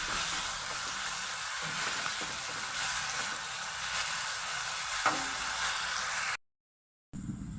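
Chopped onions frying in a pan for a katla fish stew, a steady broad sizzle running close and fairly loud with a few small pops, no talking, cutting out briefly near the end before resuming.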